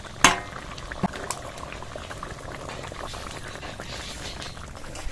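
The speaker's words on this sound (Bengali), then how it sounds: "ঝোলটা ফুটে কিন্তু প্রায় এরকম গায়ে গায়ে হয়ে আসছে, দেখুন" Fish curry broth thickening as it boils in a pan, with a close, steady bubbling and popping alongside a couple of sharp utensil knocks near the start.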